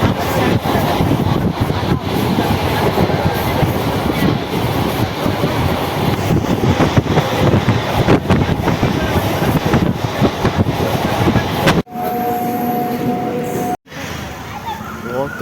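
A crowded passenger train leaving Naihati station rumbles loudly and continuously with wind buffeting, steady rail clatter for most of the stretch before a brief cut to quieter ambience near the end, with voices talking over it.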